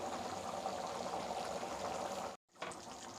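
A pot of chana masala bubbles and simmers with a steady soft hiss and gurgle, cut briefly by a moment of silence before resuming.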